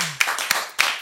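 A few sharp, isolated hand claps ring out from a studio audience on a French TV quiz show, three distinct slaps over about a second rather than sustained applause.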